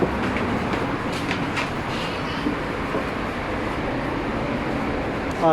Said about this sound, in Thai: รถไฟฟ้ามาพอดี